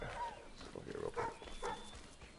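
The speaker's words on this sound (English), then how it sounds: "Shut your mouth, dog." A dog in Assassin's Creed 3 Remastered, set around Boston, barks a few short, sharp times at middle distance over faint game ambience, with a gap between the barks.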